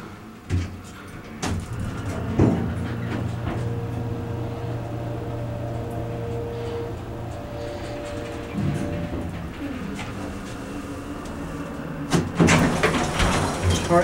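An Otis hydraulic elevator with Lexan panels in a downtown Houston shopping center: a door slides and thumps shut, then a steady low motor hum carries the cab upward, with a few clunks near the end.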